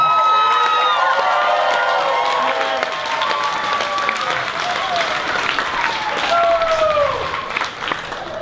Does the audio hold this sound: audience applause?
yes